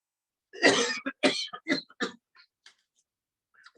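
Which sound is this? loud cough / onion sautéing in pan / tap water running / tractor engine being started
loud cough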